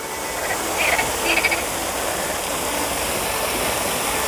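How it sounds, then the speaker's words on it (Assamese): Frogs croak in short bursts over a steady rushing wash of water from a fountain in Sochi Park, Russia, the calls faint and distant beneath the constant noise. "কিন্তু মইতো শুনিলোঁ ভেকুলী মাত"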